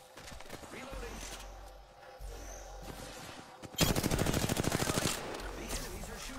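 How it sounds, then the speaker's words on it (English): Rapid automatic gunfire from enemies in a shooter video game, a loud sustained burst of fast shots midway over continuous game noise, with a voice talking underneath. "The enemies are shooting at me."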